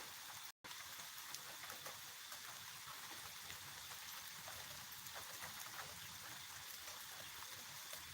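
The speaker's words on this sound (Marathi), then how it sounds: "बघू शकता अशा पद्धतीने पाऊस पडतोय" Rain pours steadily, a dense continuous hiss of drops with no pauses, heard faintly from a distance.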